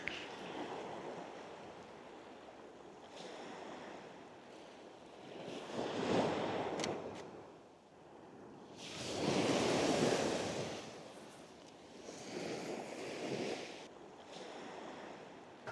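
Ocean waves washing onto a shore, rising in three broad swells of hissing surf with quieter lulls between, heard alone amid light wind.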